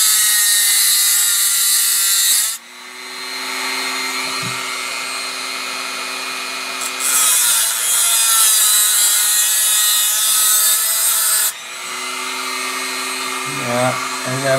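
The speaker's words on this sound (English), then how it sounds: "now I'm gonna, you know, smoothen out the edges and straighten it out too, so I'm just gonna use a Dremel" A Dremel rotary tool grinds and smooths the cut edge of a quad rail for a Yugo M70 AK-47, a loud close high whine in long bursts with brief pauses and changes in pitch as it bites.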